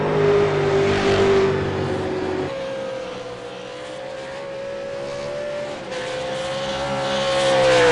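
A V8 Supercar races through the curves at Sonoma, its engine a loud continuous roar with rising and falling pitch through gear changes, heard close throughout with no speech.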